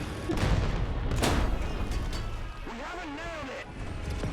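Explosions and gunfire in War Thunder, a military combat video game: a dense burst of blasts and shots in the first half, fading into a steadier rumble, with a voice talking over it.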